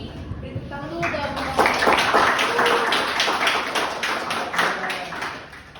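A small seminar audience claps for a presenter in a dense patter of hand claps that builds and holds for several seconds, with people talking over and around the clapping.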